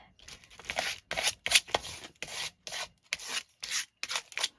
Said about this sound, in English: Don't you just love the scrapey sound?